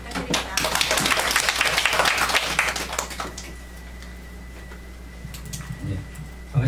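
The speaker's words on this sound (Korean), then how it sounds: "큰 박수 부탁드립니다" Audience applause for a presenter at a digital learning festival, a burst of clapping that fades out after a few seconds, leaving a quiet room with a low hum and a few faint sounds.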